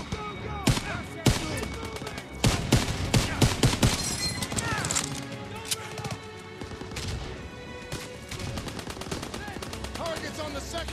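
Rapid bursts of machine gun fire in Call of Duty WWII, loud staccato volleys mixed with shouted voices and battlefield clatter, the firing coming in clusters with short gaps between them.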